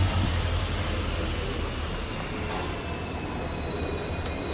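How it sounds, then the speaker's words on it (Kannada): A Namma Metro train runs at Yeshwanthpur station in Bengaluru: a steady, close rumble of wheels on rail, with a thin high squeal drawn out over it and a gradual, slight fade. No one speaks. "ನೋಡ್ರಿ ಮೆಟ್ರೋ ಹೊಂಟದಿಲ್ಲ"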